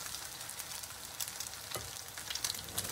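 A potato galette fries in a pan over medium-high heat, with a quiet steady sizzle and small crackling pops throughout.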